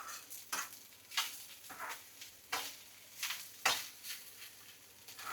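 Leftover khichdi is stirred while it is tempered and fried in a pan, giving soft sizzling under a string of scraping spoon strokes at an irregular pace, close and fairly quiet with no talking.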